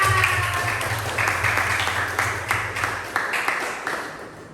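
Students clapping together in a classroom, a steady dense patter with a few sharper claps standing out, a hum underneath that drops away partway through, and the clapping gradually easing toward the end.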